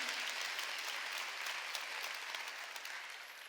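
A church congregation at a Wednesday worship service claps together in a steady, even wash of applause. The clapping is fairly faint and fades slightly toward the end.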